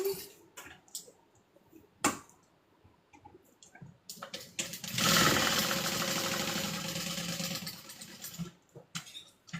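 A sewing machine stitches a handbag in a steady run of mechanical chatter after a few scattered clicks and handling noises, recorded close and fairly quiet.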